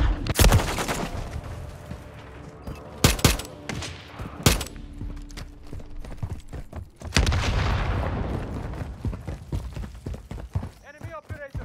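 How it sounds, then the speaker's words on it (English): Gunfire rattles through a tactical shooter match in bursts and single loud shots, some close and some distant, with players calling out between volleys. "Taking fire!"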